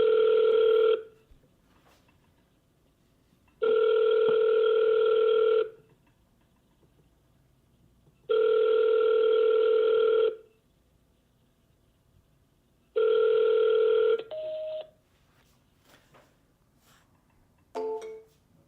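An outgoing phone call rings four times in long, evenly spaced electronic tones before connecting to voicemail, followed by a faint short sound at the end.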